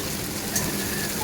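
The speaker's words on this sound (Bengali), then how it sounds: "এটা ভালো করে ভেজে নেব।" Chopped onion, garlic and tomato fry in hot spiced oil with a soft, steady sizzle that stays even at a moderate volume throughout.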